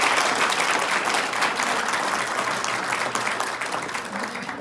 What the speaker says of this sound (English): Would you give them all a round of applause,